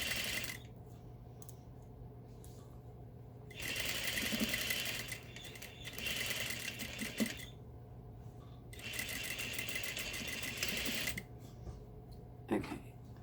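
A sewing machine stitching a slant pocket runs in several rapid whirring bursts separated by short pauses, fairly quiet and close, with faint handling clicks between runs.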